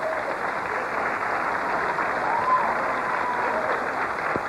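Studio audience applause at a 1983 Tic Tac Dough game show taping, a steady dense wash of clapping held at even loudness throughout, with faint tonal sounds drifting in the background.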